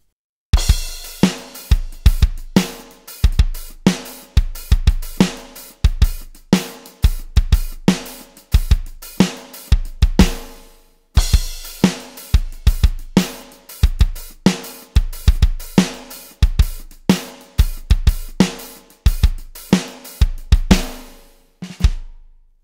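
A drum kit plays a groove on an Alesis electronic set, a 3/4 hi-hat polyrhythm against a 4/4 beat, with loud, punchy repeated hits in a steady, intricate pattern for over twenty seconds, alone without talk.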